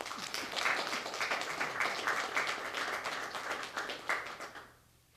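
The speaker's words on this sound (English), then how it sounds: "let's give them a hand clap" A crowd at a city youth violence prevention microgrant recognition event bursts into dense, sustained clapping that holds steady for several seconds, then tapers off quickly into quiet.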